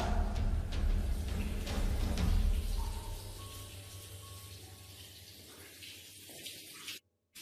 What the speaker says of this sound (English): He keeps hearing a sink drip even though no water is coming from the faucet